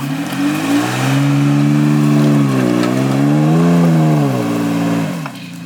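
A lifted third-generation Toyota Tacoma in four-low with the rear locker engaged revs hard on a steep muddy grass hill, its engine note rising and falling loudly and close for several seconds before dropping off.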